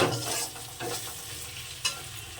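Masala spice paste with green chillies being stir-fried in a pan, a steady close sizzle broken by repeated scraping strokes of the spatula, one sharper clatter near the end, no voices.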